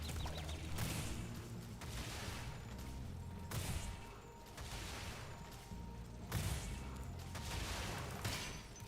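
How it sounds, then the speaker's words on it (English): Repeated booming explosions in the video game Spyro the Dragon Reignited Trilogy, loud, dense blasts bursting every few seconds over continuous game noise. "The explosion is damaging you."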